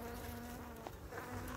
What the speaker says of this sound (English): I can't come around these bees here